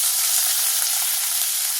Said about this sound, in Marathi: मग आता आपण हा कांदा टाकायचा.